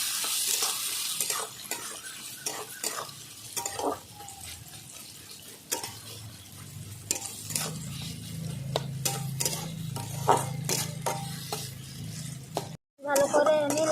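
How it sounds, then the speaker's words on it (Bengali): Chopped onions fry in hot oil with whole spices for Bengali mutton kosha, a steady soft sizzle under repeated scraping stirs of a spoon against the pan, with occasional clinks and a brief pause near the end. "কেটে রাখা পেঁয়াজ এবার সব দিয়ে দেবো ভালো করে পেঁয়াজটা আমি লাল করে নেবো"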